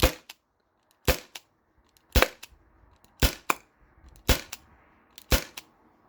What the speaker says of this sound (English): So I feel like I'm gonna get like 8 to 10 shots out of this still.